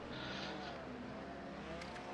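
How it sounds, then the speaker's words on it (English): The high-revving flat-six engine of a GT car in a racing video game on the Daytona road course, a continuous buzzing engine drone with racing traffic noise, steady and fairly faint throughout. "It is a very high revving engine, the flat six in that car too"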